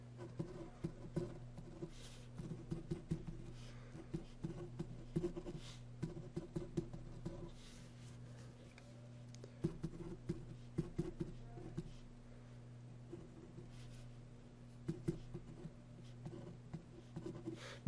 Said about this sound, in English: I'm just copying, making sure I don't make any mistakes copying